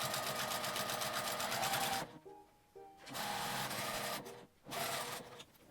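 A sewing machine stitching twill tape into a shoulder strap, rapid rhythmic needle clatter in close bursts separated by short pauses.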